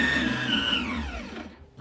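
An electric cake mixer with a whisk attachment whirs steadily at full speed while mixing chocolate cake batter in a bowl, its loud motor whine dropping and dying away near the end.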